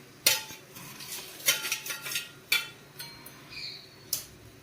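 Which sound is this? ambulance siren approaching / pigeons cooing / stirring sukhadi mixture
stirring sukhadi mixture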